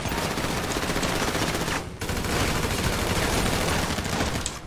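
Rapid, sustained automatic gunfire in the video game GTA 5 Online, loud and dense, broken by one brief pause before the bursts resume.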